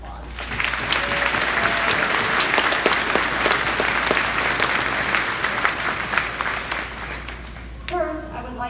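Audience applause at a high school graduation ceremony, a full, steady wave of clapping that holds for several seconds before tapering off, loud and close, with a voice briefly heard at the end.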